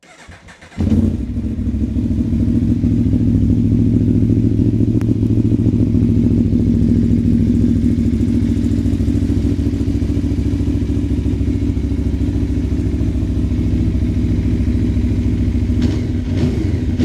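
A 2021 Aprilia Tuono V4 1100 Factory motorcycle engine fires up and settles into a loud, steady, close idle that runs without pause for roughly fifteen seconds, with no talking over it.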